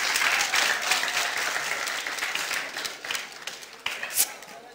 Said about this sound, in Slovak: Takže poprosím všetkým potlesk.